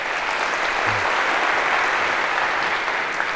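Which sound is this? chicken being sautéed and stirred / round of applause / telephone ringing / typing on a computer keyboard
round of applause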